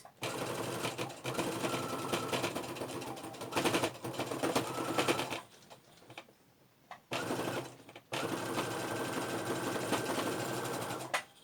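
A sewing machine stitches rucksack fabric in fast rattling bursts, pausing briefly between runs and starting again, heard close and clear with no voices.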